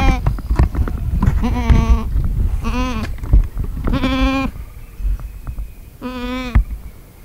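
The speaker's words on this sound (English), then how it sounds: "First, we got to rescue this stubborn goat that thinks the grass is always greener on the other side." A stuck goat on a farm bleats loudly in four or five drawn-out, wavering cries separated by pauses, close by, with rustling and bumping noises in between.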